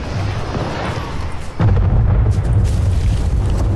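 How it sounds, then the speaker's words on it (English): A missile launch explosion in Fortnite during a live event, heard as a sudden loud boom that swells into a sustained rumbling roar. "see if anybody got hit by that missile launch"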